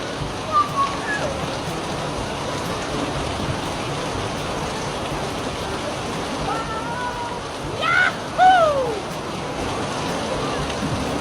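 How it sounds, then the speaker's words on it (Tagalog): Heavy rain pours down as a steady, dense hiss throughout, with brief faint voices rising over it near the end. "Parang ang lakas ng ulan."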